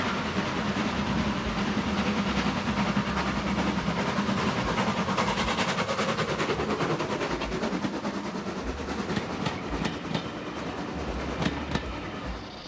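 Steam locomotives haul seven coaches up a railway gradient, giving a continuous loud rumbling roar with rapid chuffing exhaust beats and hiss that grows busier midway, heard alone and close.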